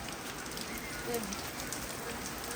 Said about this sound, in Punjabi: ਉੱਧਰ ਦੀ ਬਾਰਿਸ਼ ਆ ਸਾਰਾ ਅੰਦਰ ਨੂੰ ਜਾਈ ਜਾਂਦਾ